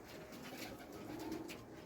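Pigeons coo softly in a low, faint murmur that carries steadily through the background with no voices present.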